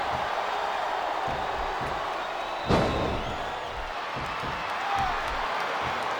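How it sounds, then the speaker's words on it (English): Arena crowd in the WWE SmackDown vs. Raw 2007 video game during an iron man match, a steady roar of distant crowd noise with a single sharp impact near the middle. "This capacity crowd is making their opinions known tonight."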